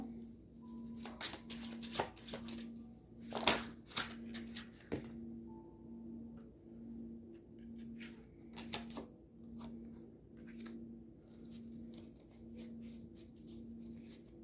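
Tarot cards are shuffled and drawn during a reading, giving a run of quick, crisp riffling clicks and soft slaps in clustered bursts over a faint steady hum, close and fairly quiet.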